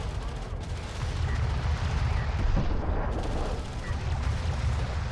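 Continuous heavy gunfire and explosive rumble from a video game battle, with rapid dense shots aimed at a carrier, loud and constant throughout.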